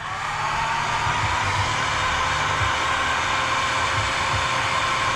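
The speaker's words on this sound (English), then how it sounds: "So I'll show you with the heat gun." A heat gun blows steadily on bonded floor sealant under a BMW E36 328i coupe, a loud, constant whooshing hum with a low motor drone underneath, close to the listener and without talk.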